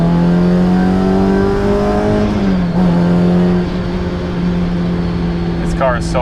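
A Honda S2000 CR sports car engine drones loudly, its pitch rising steadily as it accelerates, dipping briefly as it shifts, then holding a sustained tone; a voice speaks near the end.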